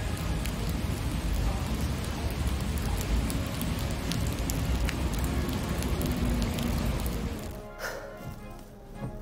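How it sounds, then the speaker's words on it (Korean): Heavy monsoon rain pours down in a dense, constant roar, loud and close, easing slightly toward the end. "비가 너무 많이 내리고 있어요"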